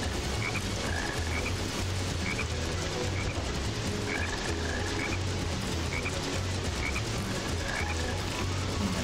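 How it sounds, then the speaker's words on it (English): Frogs croak repeatedly in the Sonic Heroes video game, a steady loop of rhythmic croaks and chirps over a dense background of game music. "Did you guys hear a croak?"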